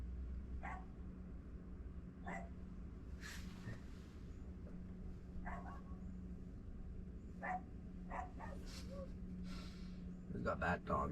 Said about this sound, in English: We've got that dog over there.